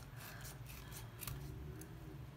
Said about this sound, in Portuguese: Minha tesoura aqui não tá muito boa.